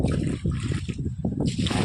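Irrigation water runs steadily through rows of an onion field, a close, continuous gurgling and trickling flow that carries on without pause.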